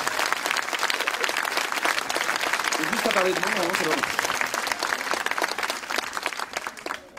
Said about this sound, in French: Nous pouvons applaudir l'entrée de Madame le bâtonnier.